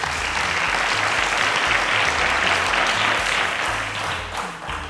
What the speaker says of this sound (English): Round of applause to Timothy.